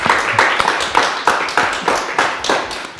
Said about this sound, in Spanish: un aplauso para Kalima